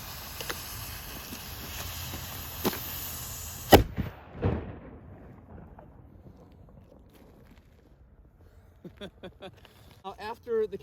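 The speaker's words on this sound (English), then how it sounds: "After the cannon has fired" A black powder signal cannon fires a single sharp, loud boom, followed by a fading rumble and quiet outdoor air, then voices talking faintly.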